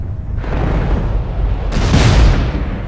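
Heavy booming LRM missile barrage explosions from the Mechwarrior Living Legends game on the Palisades map, a dense continuous roar with a second louder wave of blasts midway.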